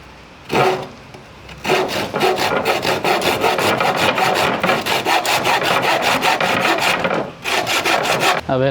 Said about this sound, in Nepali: अब हाम्रो पावर टुल चाहिँ छैन यसले नै काट्ने होइन